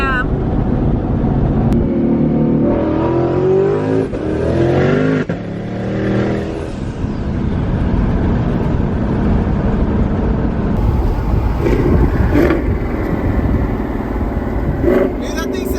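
A cammed twin-turbo GT500 on Florida streets runs at high RPM, its engine roaring and revving loud and close throughout, with people talking and reacting over it.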